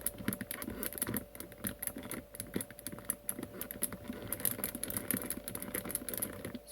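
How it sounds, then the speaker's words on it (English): A torque mechanism on a partially repaired Powerplay Cruiser joystick, glued with hard plastic adhesive, makes rapid dense clicking that runs steadily with no talk. "Okay, the torque is clicking somewhat."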